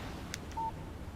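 A phone text message alert in the video game Alan Wake gives a brief electronic chirp followed by a short, clean beep, quiet against a faint background hiss.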